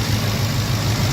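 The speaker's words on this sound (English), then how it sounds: "The engine runs real good." A car engine fitted with an intercooler, intake and headers runs steadily and loudly close by, giving a continuous low rumbling drone with no breaks and no one speaking.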